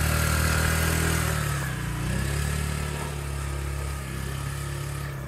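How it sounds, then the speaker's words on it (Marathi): A motorcycle engine runs steadily and loudly up close on the road to Mount Agung in Bali, with its droning hum dipping briefly before settling again. "आम्ही बाईक घेऊन जातो आता पुढे"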